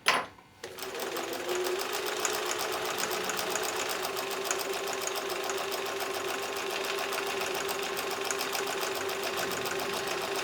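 A sewing machine stitches a quilt seam in one continuous run, a close, steady rapid whir with fine regular needle ticking, after a brief clack at the start.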